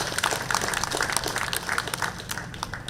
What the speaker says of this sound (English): Can you please clap for them?